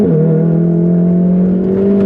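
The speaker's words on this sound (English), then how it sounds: "Every time you change gears, it's like an event." A tuned Stage 2 VW Golf R engine revs hard with steady loud droning harmonics, its pitch holding and stepping slightly as the DSG gearbox shifts, close and continuous throughout.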